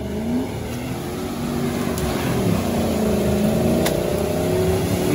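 An off-road Nissan Patrol revs hard while churning through a deep mud puddle, its engine holding a steady, loud drone with rising and falling pitch for several seconds and no talking.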